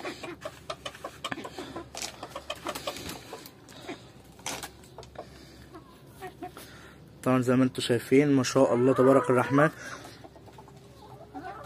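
Chickens cluck nearby while someone talks, then a loud rooster crows in a long series of calls.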